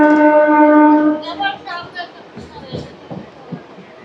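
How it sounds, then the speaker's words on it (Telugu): A MEMU commuter train on the Vijayawada to Machilipatnam line sounds its horn in one loud, sustained tonal blast lasting about a second, then gives way to crowd chatter and bustle. "ఈ మెమో ట్రైన్స్ హార్న్ అయితే సూపర్ ఉంటుంది అబ్బా"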